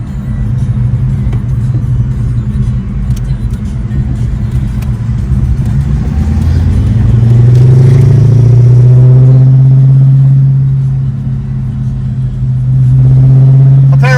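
A 1990 Ford Mustang GT V8 runs loud and close, a heavy low rumbling idle that swells as the engine picks up revs midway, then settles and rises again, with no talking.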